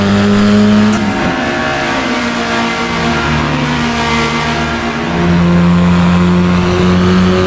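Race car engine in the video game Assetto Corsa EVO, a steady loud droning engine note with shifting revs and harmonics throughout as the car slides around the track, continuous with no speech.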